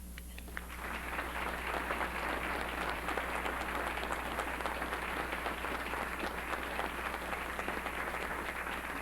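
An audience at a City Club talk welcomes the ambassador with sustained applause, steady dense clapping that starts suddenly and carries on at an even level to the end.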